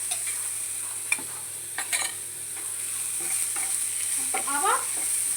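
Onions frying to light brown with salt, stirred in a pan, give a close, continuous sizzle broken by scattered scrapes and knocks of the spoon, with a few squeaky scraping strokes near the end.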